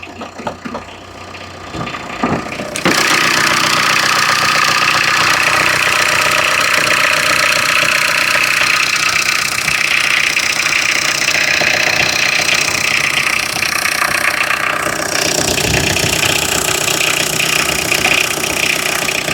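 A steady Toyota Vellfire engine runs continuously at idle, loud and close, with a dense mechanical hum that starts up strongly after a quieter opening few seconds.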